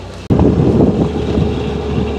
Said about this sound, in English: the wind just blew us completely the wrong way